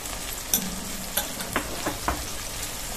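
Ginger, cumin and chili spice paste with turmeric frying in a pan while being stirred; a continuous close sizzle is broken by several sharp spoon knocks against the pan.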